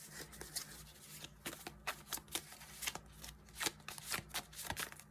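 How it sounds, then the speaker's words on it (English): Playing cards being shuffled at a board game session, a quick run of soft riffling flicks and taps, close and quiet with no talk. "Do a little shuffle."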